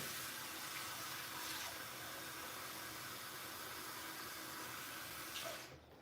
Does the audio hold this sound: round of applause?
no